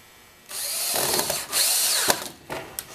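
A power drill drives screws into a rustic log mirror frame in a few close bursts: a long whirring run, a brief pause, a second run, then short clicking blips as the motor stops and starts.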